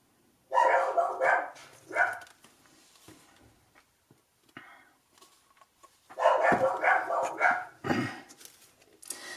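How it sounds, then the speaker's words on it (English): Dogs barking in two loud clusters of rapid barks, close by, with quieter pauses and a few scattered yips in between. "Sorry about the dogs."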